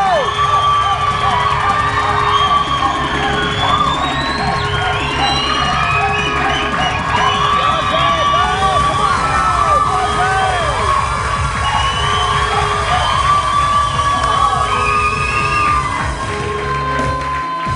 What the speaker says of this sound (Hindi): 2 लोगों को जो सबसे ज्यादा शोर मचाएगा, तालियां बजाएगा